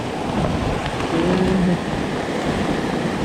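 Steady outdoor rain pours with a low rumble of thunder, a loud continuous wash of hiss and patter filling the whole stretch, with no talk over it.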